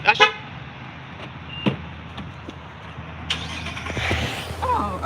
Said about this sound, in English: somebody started their car from the inside